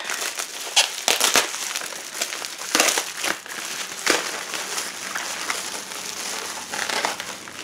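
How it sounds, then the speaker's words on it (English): Plastic bubble wrap crinkles and crackles continuously as it is handled up close, with sharper crunching bursts now and then. "Okay, the bubble wrap"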